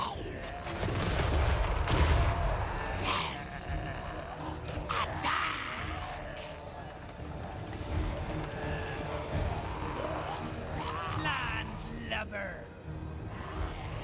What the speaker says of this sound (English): Manual shots of hell cannons.